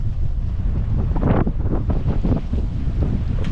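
Strong wind buffets the microphone and waves wash against a sailboat's hull on Lake Erie, a loud, continuous roar with surging swells and splashes throughout.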